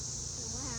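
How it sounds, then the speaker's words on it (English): Worker honeybees give a steady, dense buzz inside an open hive during an inspection. The hum is close and continuous, with no talk over it. "These are all worker bees."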